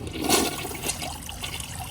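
A vintage Briggs Beautyware toilet with a black siphon jet flushes with the handle held down, a loud gush of rushing water that eases into a trickling swirl.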